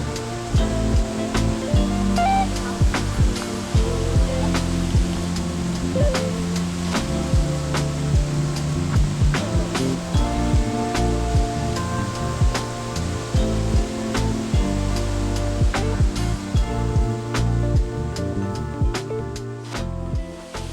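A waterfall roars steadily and loudly, a continuous broadband rush that fills the whole scene without pause, with scattered faint clicks and no voices.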